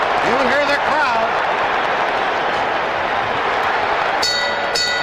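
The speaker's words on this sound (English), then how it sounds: "You hear the crowd." A large boxing arena crowd roars continuously, with a few voices rising above the din and a sharp ringing bell near the end.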